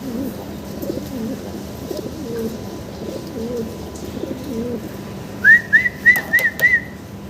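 Low ambient murmur, then near the end a short series of soft pigeon calls, about five quick cooing notes in a row, at a fancy pigeon sale.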